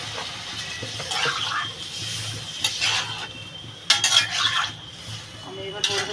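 Water poured into a pan of potatoes cooking in a Bengali curry with aubergine and country-chicken eggs, splashing and bubbling close by, with metal spoon scrapes and clinks against the pan throughout and a few louder splashes near the end.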